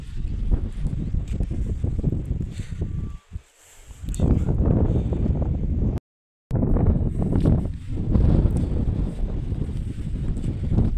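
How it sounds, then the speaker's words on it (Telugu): Strong wind buffets the microphone outdoors at Araku in the hills, a loud continuous rumbling roar with gusts and a brief dropout. "చాలా వరకు గాలి అయితే వీస్తుంది"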